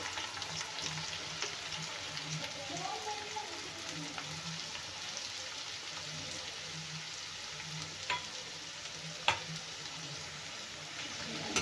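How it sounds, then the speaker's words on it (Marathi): Four large finely chopped onions frying in oil in a pan for egg bhurji, a steady broadband sizzle throughout with occasional soft stirring clicks and scrapes, close and even. "आता कांद्याला तेलामध्ये छान गोल्डन होईपर्यंत भाजून घ्यायचं आहे"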